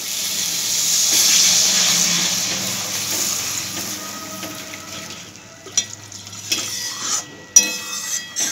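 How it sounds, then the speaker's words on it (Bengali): Water poured into a hot, well-cooked spice paste gives a loud burst of hissing steam that slowly fades, followed by a few clinks and scrapes of a spoon against the pan, close by. "এরপর আমি দিয়ে দিচ্ছি জল।"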